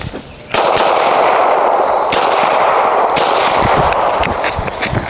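Rifle fire at an outdoor shooting range: after a brief quieter moment, a loud, sustained stretch of shots begins, with a few sharper reports standing out, close and dominant throughout.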